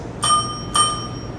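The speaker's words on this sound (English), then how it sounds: "When there are 30 seconds remaining for your speech, the bell will ring twice." Two crisp strikes of a timekeeper's bell at a speech event, about half a second apart, each a bright metallic ping with a short ring that fades quickly, heard close with no talking.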